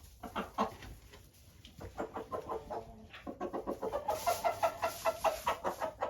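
A group of chickens clucks steadily in short, repeated bursts while feeding among roosters, fairly close, with the clucking growing busier and louder toward the end.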